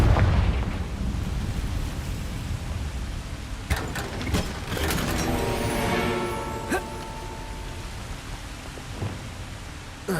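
A Confringo blast in Hogwarts Legacy: a fiery spell explosion rumbles on as a long roaring, crackling wash, punctuated by several sharp cracks and thuds over the sustained noise.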